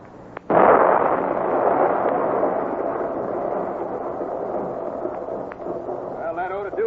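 A dynamite blast in an old-time radio drama goes off suddenly, loud and booming, then rumbles away in a long roar with a voice rising near the end.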